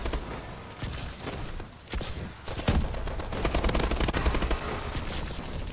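Bursts of automatic gunfire in Call of Duty Advanced Warfare multiplayer on PS4, dense rattling volleys with heavy thumps and short pauses, loud and continuous throughout.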